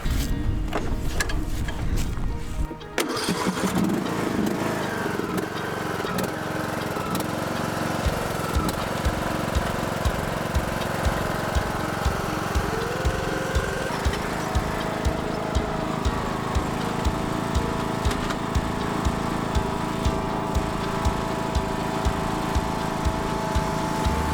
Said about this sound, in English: go ahead and gear up the lawn tractor with the gorilla cart